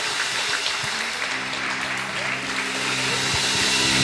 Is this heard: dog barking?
no